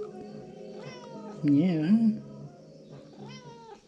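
A cat meows clearly and close by, a short rising and falling call, while someone talks nearby and says a brief word.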